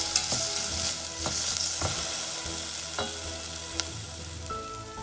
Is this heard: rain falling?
no